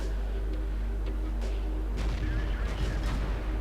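Cannon fire from tanks in World of Tanks, a few dull booms over a steady low engine drone, with a voice talking faintly underneath.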